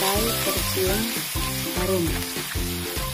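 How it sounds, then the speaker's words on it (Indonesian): Ground spice paste sizzles and fries in hot oil as it is sautéed and stirred. The crackle is loud, close and continuous, with a steady rhythmic pattern running through it. "Panaskan minyak, kemudian kita tumis bumbu yang sudah dihaluskan tadi"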